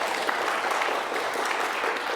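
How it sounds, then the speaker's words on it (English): Steady applause from a congregation during a sermon, an even, sustained patter of many hands clapping with no pauses. "Oh, just clap for them."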